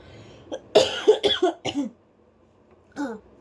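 Several coughs in quick succession from a person with a lingering cough and sore throat, close and fairly loud, then a pause and one more cough near the end.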